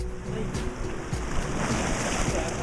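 Sea waves wash steadily onto a beach in Karachi, a continuous broad rushing surf with some wind noise against the microphone, fairly loud and constant with no speech.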